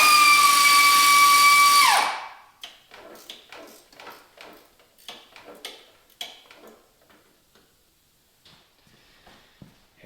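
Bolts come out of the steering shaft clamp on a 2020 Honda Rancher ATV: a loud power tool whines for about two seconds, then stops, and a run of rapid ratcheting ticks and small metallic clicks follows at close range.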